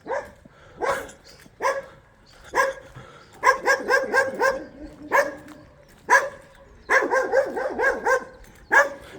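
Several dogs barking on a street in Lille, France, close by and loud, with sharp, irregular barks coming singly and in rapid bursts, along with a few yips and whimpers.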